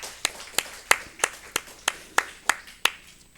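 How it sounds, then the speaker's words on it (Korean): Church congregation at a Sunday morning service giving rhythmic unison claps, about ten sharp, evenly spaced hits in steady tempo, fairly close and clear. "우리 박수로 축복하겠습니다."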